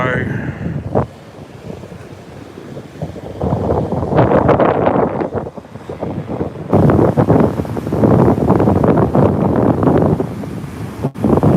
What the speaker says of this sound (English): I'm holding it by my hand and it's windy.